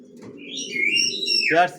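Racer pigeons, a newly adult male and female pair, give a close, resonant throaty coo lasting under two seconds, with a brighter whistling overtone on top and a louder final swell.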